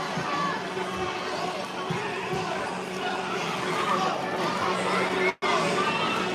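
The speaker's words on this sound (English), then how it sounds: "this crowd really making some noise out here tonight" A crowd at a high school basketball game, a Highland Hornets vs. Tallmadge Blue Devils doubleheader on Veterans Appreciation night, keeps up a loud, steady roar of chatter and noise, with a brief dropout near the end.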